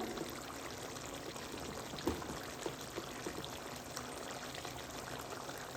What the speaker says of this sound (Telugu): చూస్తారు కదండి కూర సౌండ్ ఎలా ఉందో